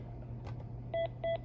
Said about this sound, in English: it's now going to be beeping and it says code blue 618